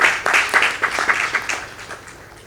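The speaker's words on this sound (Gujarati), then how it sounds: "એક વખત તાળીઓથી વધારીએ" Audience applause at a devotional gathering, a dense burst of many hands clapping together that peaks early and gradually thins and fades over a couple of seconds, with no talk over it.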